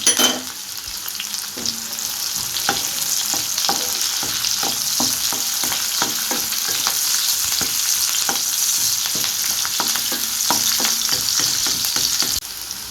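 Curry leaves and green chillies fry in hot oil for a Tamil fish curry, a loud close crackling sizzle with repeated spatula taps and scrapes at an uneven rhythm throughout.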